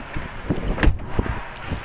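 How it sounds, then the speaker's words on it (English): Strong wind blows outdoors in snowy weather, gusting in irregular buffeting bursts against the microphone, loud and close, with no voices. "Windy as hell out here."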